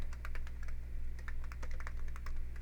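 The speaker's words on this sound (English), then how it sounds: "I don't know why my typing is so bad today." Fast, uneven typing on a computer keyboard, a steady run of close clicks over a constant low electrical hum, with no talk.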